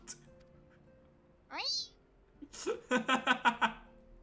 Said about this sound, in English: Just angry cat noises in the background.